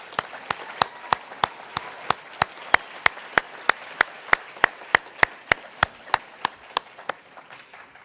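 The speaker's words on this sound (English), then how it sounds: "Give yourself a round of applause," Sharp, evenly spaced claps beat out a steady rhythm at a graduate hooding ceremony, over a faint murmur of the crowd, before tapering off.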